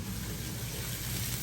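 Jalapeño poppers cooking in a Power XL air fryer give off a steady, even sizzle with constant hiss and low crackle, continuous and unbroken throughout.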